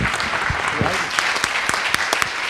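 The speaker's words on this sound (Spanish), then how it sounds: "yo creo que eso se merece un aplauso" An audience claps after a film screening at a cinema series event. The applause is lively and close, with sharp individual claps standing out over the crowd, and some voices mixed in.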